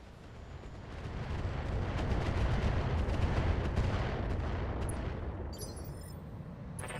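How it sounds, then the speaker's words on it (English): Guided mortar rounds pound a wheeled APC in a modded combat video game: a dense, rumbling barrage of booms swells and fades, followed by some sharper crackling near the end. "Ran some guided mortars on the wheeled APC here."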